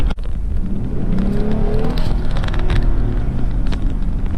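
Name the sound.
2020 Jeep Gladiator engine accelerating with wheel spin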